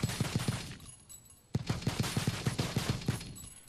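Bursts of turret fire in the game Life Effect: rapid, evenly spaced automatic shots in two volleys separated by a short lull, loud and punchy with no talking.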